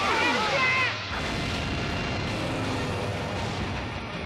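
A cartoon missile fires off and bursts into a loud, sustained rumbling blast that roars on for several seconds, with a high whistling streak at the start, set amid animated space-biker action.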